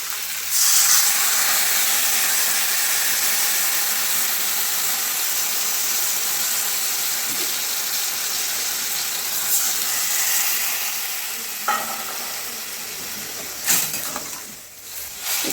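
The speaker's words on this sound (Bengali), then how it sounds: "দেখুন এবার আমি তেঁতুলের জলটা দিয়ে দেবো" Tamarind water poured into a hot pan of prawn sour curry sets off a loud, sustained hiss and sizzle that gradually settles, with a few clatters near the end.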